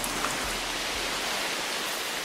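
Steady rain falling over the Brazilian rainforest, a broad continuous hiss of drops on leaves that stays even and unbroken throughout.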